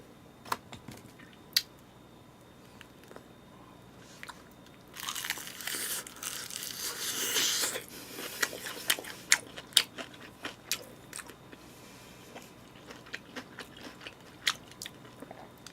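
Close crunching and chewing as crunchy fried chicken is eaten, bursts of crisp bites with a dense stretch of crackling in the middle and scattered sharp crunches after.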